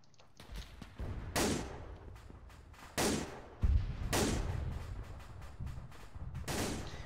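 Bipod-mounted rifle fire in the World War II video game Iron Front, a handful of sharp gunshots spaced a second or so apart with echoing tails, mid-distance and loud, followed by scattered distant shots.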